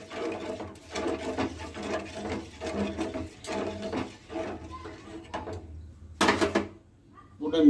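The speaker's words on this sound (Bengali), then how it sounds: "আবার এটাকে নাড়িয়ে নেব ক্যারামেলটা বানানো পর্যন্ত।" Caramel mixed with powdered milk is stirred in a pan, a rhythmic scraping and rubbing repeated roughly every half second, fairly close. It pauses near the end, followed by a brief burst of noise.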